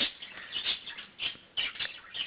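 A pet bird chirps at its own reflection in a mirror, giving bright, close tweets in short bursts with brief pauses between them.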